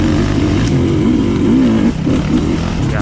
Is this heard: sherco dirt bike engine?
yes